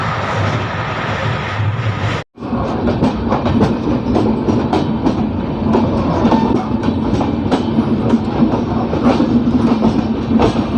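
Sampoorna Kranti Superfast Express, running between Muzaffarpur and Anand Vihar, rolls along the rails with a loud, steady clickety-clack and rumble, heard up close throughout with a brief drop in sound near the start.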